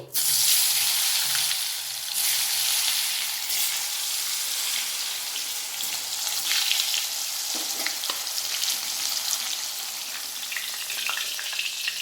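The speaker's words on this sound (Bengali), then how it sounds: "তো আমি এখন ভাজার জন্য সাদা তেল দিয়ে দিচ্ছি তেলটা গরম হয়ে গেছে প্রথমে আমি পটলগুলো ভেজে নিচ্ছি" Pointed gourd (potol) frying in hot white oil gives a steady, loud, close sizzle that fills the whole stretch with a dense crackling hiss and no talk.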